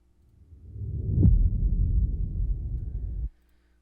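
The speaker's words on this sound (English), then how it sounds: "an impact, which sounds like this" A single deep impact sound effect made for a music track, swelling in over about a second into a heavy low-end boom with a brief sharp transient, sustaining loudly before cutting off abruptly.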